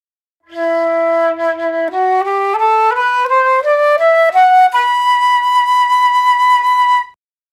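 Flute low-register notes stepping up a scale with a flat, firm low-range embouchure, starting low and rising in sustained tones, played steadily and fairly loud with no talking.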